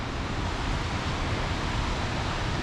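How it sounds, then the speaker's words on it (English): Continuous broadband rush of a river flowing far below a logging road in the Olympic National Park area, a dense, even roar like a long waterfall with no voices. "there is a noise like there's a long big waterfall"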